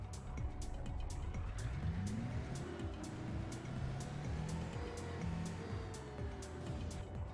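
Tesla truck in Euro Truck Simulator 2 running steadily under a smooth, continuous engine and road drone, with regular faint ticking and a rising pitch sweep as it speeds along.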